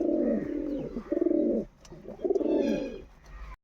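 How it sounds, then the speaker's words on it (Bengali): Pigeons kept for sale in Canning, South 24 Parganas, give several long, throaty coos in close succession, near and clear with no talk. "দেখো খুব সুন্দর কোয়ালিটি পায়রা"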